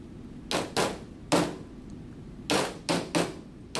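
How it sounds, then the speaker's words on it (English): Light taps on a frame held in a fixture, six short sharp knocks in two clusters of three with quiet gaps between, close and fairly crisp, no voices. "We're going to give it a little tap."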